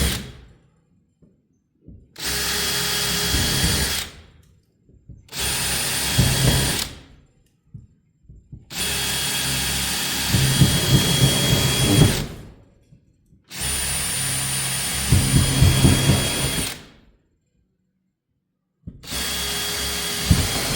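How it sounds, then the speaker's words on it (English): A power drill running a unibit step drill through metal for a portal door in a welding shop, five separate bursts of whirring and grinding with silent gaps between them, loud and close. "So let's drill some holes,"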